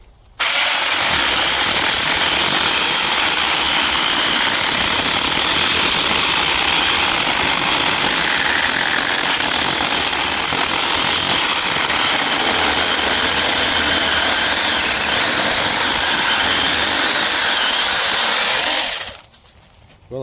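A DEKOPRO 6-inch cordless mini electric chainsaw cuts through a 4-inch dead tree, its motor whining loud and steady for nearly twenty seconds close by, then cutting off abruptly.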